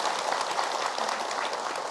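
Women in a religious TV show audience applaud together, a dense, even patter of many hands clapping at moderate volume without pause.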